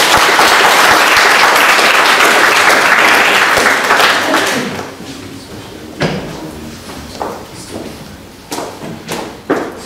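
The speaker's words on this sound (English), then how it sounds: "Round of applause again." An audience at a charity ideas event on young people and education claps in a loud round of applause that thins out after a few seconds into scattered individual claps and thumps.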